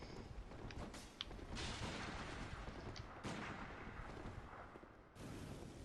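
Evelyn pistol shots ring out during a Bloodborne boss fight: repeated loud, booming gunfire blasts, several distinct bursts with rumbling tails over a sustained noisy game soundscape, with no talking.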